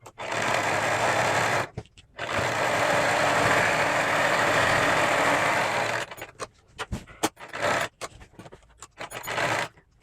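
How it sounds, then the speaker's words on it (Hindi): A sewing machine runs in long continuous bursts while stitching palazzo pant pieces, with a brief pause near two seconds and then choppy short runs and stops toward the end. It is close and loud, with no talking. "ऊपर के 2 पार्ट उठाएंगे और इसको स्टिच कर लेंगे। पक्का कर लेंगे एक सिलाई और।"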